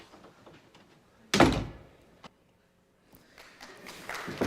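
A door closes with a single sharp, loud thunk, followed by a brief tap and quiet room noise, then softer rustling.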